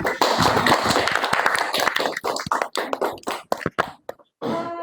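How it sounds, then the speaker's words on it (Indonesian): Students in a classroom clap after the group conclusions: a loud, dense burst of many hands that thins into scattered individual claps and stops, after which a voice begins speaking. "Tepuk tangan untuk"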